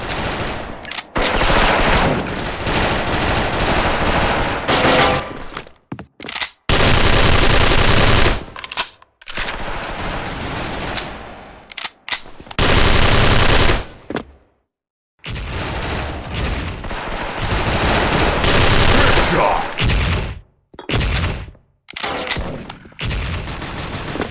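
Rapid automatic fire from an XM8 rifle in the shooter game Special Force, loud dense bursts of several seconds each broken by short silent gaps, close and dominant with no talking.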